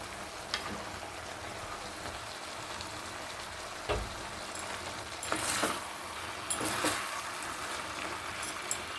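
Mixed vegetables added to a pan for a Bengali fish-head chhechra curry sizzle softly under a steady low hiss, with a few sharp spoon or pan knocks spread through.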